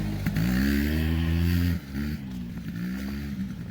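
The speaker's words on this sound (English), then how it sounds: "here comes my kid on an ATV" An ATV engine runs close by at a steady loud drone with small shifts in pitch, easing briefly partway through and then continuing as the machine drives up in a garage setting.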